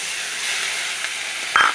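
Cumin and green chili paste dropped into hot oil with frying tilapia, a steady close sizzle and hiss that swells briefly as the paste hits the pan, with no voices.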